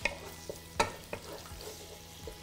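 Onions fry in a pan, heard as a soft sizzle broken by several scattered sharp clicks and scrapes from a stirring utensil, fairly quiet and close with no speech.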